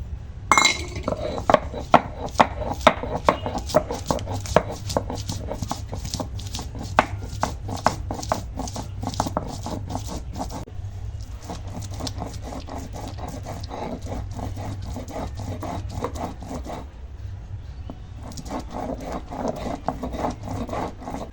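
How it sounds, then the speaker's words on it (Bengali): Ginger and garlic ground into a paste by hand on a stone, a steady rhythmic rubbing and rasping with occasional clinks, close and fairly loud, no talking. "এর জন্য আদা রসুন বেটে নেব"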